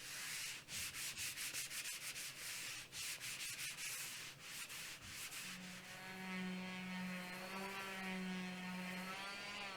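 Hand scuffing of a surface gives rapid, rhythmic rubbing strokes, close and fairly loud, with no talk.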